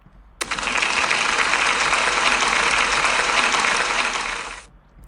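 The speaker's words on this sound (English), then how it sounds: "I think we need to give her a big round of applause, please." Pupils and staff at a school celebration assembly break into a sudden wall of even, dense applause for a pupil, holding steady for around four seconds before tapering off quickly.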